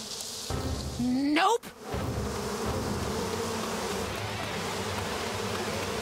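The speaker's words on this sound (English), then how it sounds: "Oh, no, the bees, the bees!" Bee swarm in Psychonauts 2 buzzing loudly with a rising whine, then cut off abruptly, followed by a steady rumbling ambience; a voice exclaims briefly.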